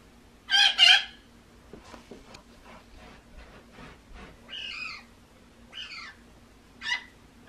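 A young pet crow gives a few harsh, nasal calls, with a loud double call near the start and three shorter ones spaced out after it, close by in a quiet room.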